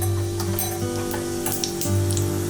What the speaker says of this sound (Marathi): राई छान तडतडली